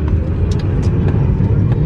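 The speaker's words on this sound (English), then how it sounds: "I am in a 2006 Ford GT 500. And I'm not going to lie to you guys. And this is a manual as well" A 2006 Ford GT 500 with a manual gearbox drives along, heard from inside as a steady, loud engine drone and road rumble with a few faint clicks over it.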